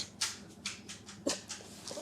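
A dog whimpers indoors in a few soft, short whines and whistly cries spaced through a quiet room, faint and close.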